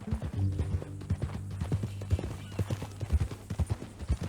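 Horse hooves clip-clopping on the ground in the video game Red Dead Redemption 2, a steady close rhythm of hoofbeats with a brief whinny near the start, alone without talk.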